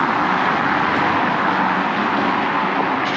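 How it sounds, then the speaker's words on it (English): A single car climbs a hill on a street in Paguera, Mallorca, its engine and tyres making a loud, continuous broadband roar that stays steady from start to finish. "Just one car making all that noise going up."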